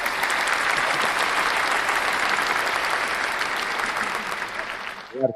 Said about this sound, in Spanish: Un aplauso ahí.